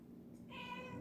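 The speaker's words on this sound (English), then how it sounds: "You might hear my cat in the background, I'm sorry." A domestic cat gives a single short meow, faint and in the background of a quiet indoor room.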